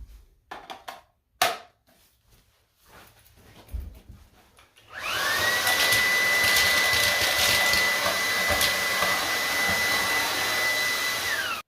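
Xiaomi Dreame T10 cordless stick vacuum cleaner switching on after some handling clatter, then a loud, steady high-pitched whine and rushing airflow as it runs up close while picking up colorful cereal.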